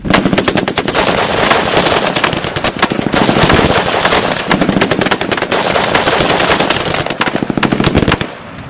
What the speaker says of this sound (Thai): รวมทั้งเสียงปืนเล็ก M16 ของเราและอาก้าของฝ่ายตรงกันข้าม ดังระงมอยู่รอบฐาน